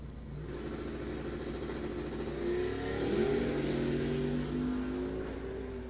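A 1971 Chevrolet Nova and a Dodge Dart GTS race at the Coles County Dragway, with loud engines revving and roaring over a rumbling base, then swelling as the cars accelerate and pass.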